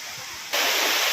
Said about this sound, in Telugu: ఒక వాటర్ ఫాల్ అయితే మనకు కనబడుతుంది